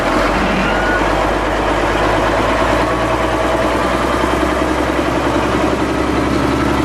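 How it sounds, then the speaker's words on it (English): A heavy 1996 Caterpillar D250E diesel engine runs steadily at idle nearby, a constant low rumble with no voices. "Just give you a little idea how it runs here."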